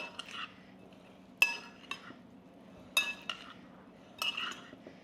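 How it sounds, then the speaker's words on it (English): Utensil stirring chopped vegetables with corn cut off the cob in a sheet-pan dish, giving a few close, separate clinks and scraping bursts with quiet gaps between them. "Now we just stir this around."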